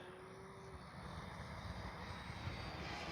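An FMS Ranger 1220mm RC airplane flying overhead, its electric motor a steady, faint drone with a thin high whine, distant and continuous with no talk.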